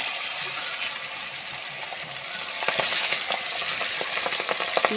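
Fish frying in very hot oil, a dense, steady close sizzle that swells louder partway through with crackling pops, and no voices.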